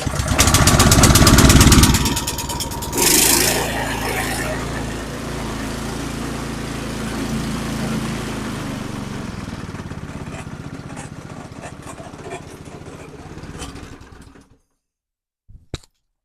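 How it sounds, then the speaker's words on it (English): A Craftsman snowblower engine, just after a carburetor cleaning, fires from a pull start with a loud burst, then settles into a steady close small-engine idle before cutting off near the end. "Let's give it a pull and see if we can get it started."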